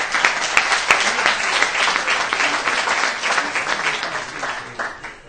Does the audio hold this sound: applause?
yes